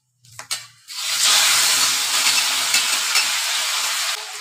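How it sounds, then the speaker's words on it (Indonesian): Chili peppers frying in a pan while being stirred, a steady loud sizzle that starts after a few short scrapes and holds throughout, with no talk. "goreng cabai."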